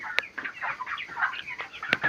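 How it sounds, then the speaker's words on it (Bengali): Chickens on a poultry farm clucking in quick, overlapping bursts, close and moderately loud, with a couple of sharp clicks and no voices. "ভালোই আমাদের খামারে মুরগি হচ্ছে"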